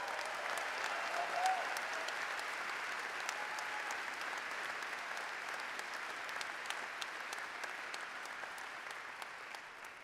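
Sustained audience applause fills a university commencement ceremony at the University of North Georgia, a steady dense wash of clapping from a large crowd that holds at an even level for the whole stretch without speech.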